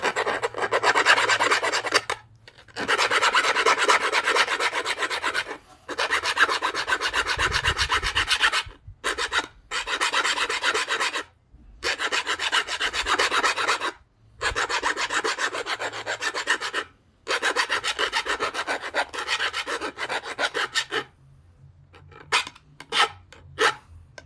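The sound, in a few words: sharpening the edge of black bottle glass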